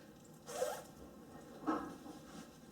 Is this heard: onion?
no